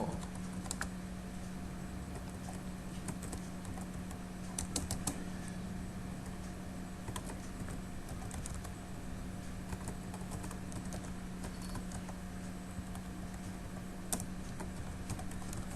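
Steady, close clicking of a computer keyboard as PHP code is typed, with quick keystrokes running continuously and no one talking.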